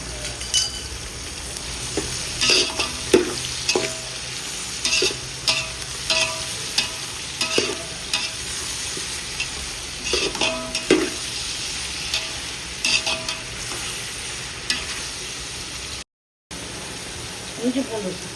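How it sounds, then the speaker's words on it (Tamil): Onions sizzling and sautéing in a pan for country chicken biryani, a steady frying hiss with repeated stirring scrapes of a utensil, while a person talks over the cooking. "வெங்காயம் வதக்கிறது தக்காளி போட்டுக்கலாம்."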